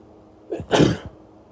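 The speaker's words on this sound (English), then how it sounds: "I have to sneeze." A single close sneeze: a short breathy intake followed by one loud, explosive burst, alone against a quiet background.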